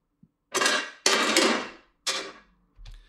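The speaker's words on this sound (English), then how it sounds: "Next is just some random metal sounds I think I found from my kitchen." Metal kitchen oven grates and big spatulas knocked together: a few loud, close clanging bursts with ringing, rattling tails, separated by brief silences.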